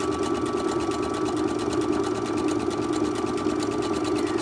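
A sewing machine stitches steadily through a fabric face mask with a pipe cleaner sewn in, a fast, even mechanical whir and rapid needle tapping, close and continuous with no talk.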